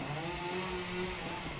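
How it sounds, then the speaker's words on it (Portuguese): A chainsaw in a video game drones steadily and continuously throughout, a fairly loud, sustained buzzing engine tone with no talk over it. "Essa motosserra não para, lá."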